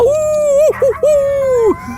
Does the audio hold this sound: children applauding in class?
no